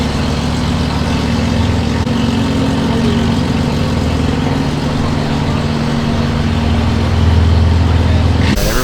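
A 875 whp BMW G80 M3 runs on a chassis dyno with a loud, steady, deep engine drone throughout, swelling slightly near the end before a sharp cutoff.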